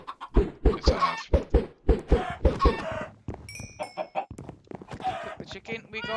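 Chickens clucking in a video game, a quick rhythmic series of loud clucks close by, followed by scattered clucks mixed with talking voices and a short electronic tone.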